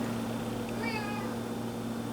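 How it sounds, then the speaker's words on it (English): A house cat gives one short, faint meow midway through, set against a quiet room with a low steady hum. "I'm sorry, my cat's just so persistent."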